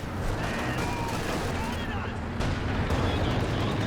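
Constant rumbling booms of an artillery barrage in Company of Heroes 2 keep the battlefield dense and loud, with a commentator talking over it.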